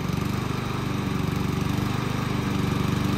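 Oleo-Mac GV53TK petrol lawn mower engine running loud and steady at a warm-up idle, a continuous rough mechanical drone with no pauses throughout.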